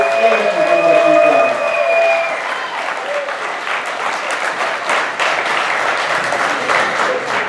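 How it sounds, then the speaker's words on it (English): An audience applauds a choir conductor, sustained clapping that rises over the tail of a sung or sustained note and continues steadily, with a few voices and cheers underneath. "Can we give a huge round of applause for our wonderful conductor, Betty Lee?"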